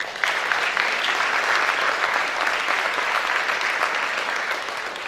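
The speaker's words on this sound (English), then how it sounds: "give the parents a big round of applause" Sustained, full applause fills the room as an audience at a school November signing ceremony claps for the parents, an even wash of many hands, fairly loud and without talk.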